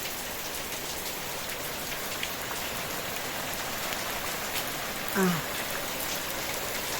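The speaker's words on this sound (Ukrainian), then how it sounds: "То дощ, то сонечко, то дощ, то сонечко." Steady rain patters on surfaces all around, a dense even hiss of drops that continues without a break.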